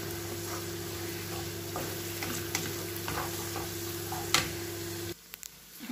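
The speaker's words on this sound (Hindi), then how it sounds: "इसको थोड़ा सा और भून लेंगे ताकि अदरक और लहसुन भी थोड़ा सा भुन जाए" Ginger and garlic fry in a pan at a steady low sizzle, with soft stirring taps and scrapes throughout, a small kitchen cooking sound that cuts away near the end.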